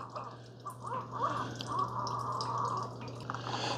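A Keurig K-Supreme Plus single-serve coffee maker brews a Pike Place roast K-Cup, giving soft trickling drips and gurgling coffee flow over a low steady machine hum, fairly quiet with no talk.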